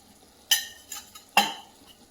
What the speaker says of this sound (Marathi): याच्यात आपल्याला काजू बदाम थोडेसे भाजून घ्यायचे तूप टाकून